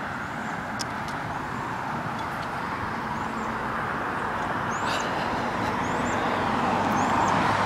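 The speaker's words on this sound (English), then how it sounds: "Sorry if you hear the cars." Steady roar of road traffic, cars passing continuously at a moderate distance, with no voices over it.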